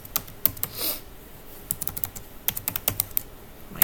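Computer keyboard typing, a quick irregular run of sharp key clicks heard close and fairly quiet, with no talk over it.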